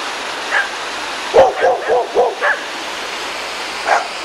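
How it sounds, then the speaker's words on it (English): Several neighbouring dogs bark beside a holiday home in Bruton, Somerset, with a stream running past, giving a short cluster of sharp barks midway and a couple of scattered single barks over steady rushing water. "One dog. Three dogs. And here comes our dog."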